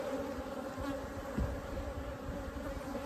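Africanized honey bees swarm around an open hive during an inspection, a dense, steady buzzing hum that stays fairly faint, with one brief bump of handling noise partway through.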